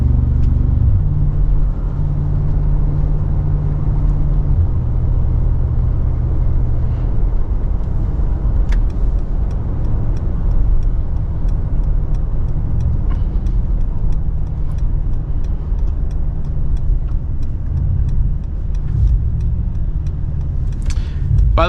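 A Mercedes G-Wagon driving through Dubai late at night gives a steady, loud low engine and road rumble from inside the cabin, holding constant throughout with faint ticks above.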